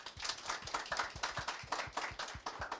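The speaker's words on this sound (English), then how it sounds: "a round of applause" A panel audience applauds a speaker at a digital finance event, a steady run of distinct claps at close range, fairly dense and even, with no talk over it.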